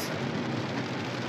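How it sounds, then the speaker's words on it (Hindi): Heavy rain drums steadily on a car while driving, a dense continuous broadband wash with no voices over it. "फ्रंट में बहुत ही तगड़ी बारिश"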